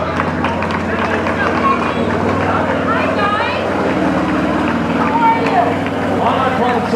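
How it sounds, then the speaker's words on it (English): A group of ATVs rolls past in a Veterans Day parade in Jackson, California, engines droning loudly and close under a busy mix of crowd chatter and voices. "Or just decided to drive their ATV in a group?"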